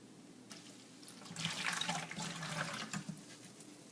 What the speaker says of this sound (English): we'll take our priming sugar, corn sugar and water that's boiled,